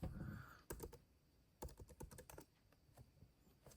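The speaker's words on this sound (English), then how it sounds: "Let me just type in my password real quick." A password is typed on a 2012 MacBook Pro keyboard: quiet bursts of quick key clicks in uneven groups, close and faint, with no talking.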